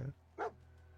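A dog in the Fallout video game gives one short, faint bark following a brief low sound, heard alone over a quiet hum.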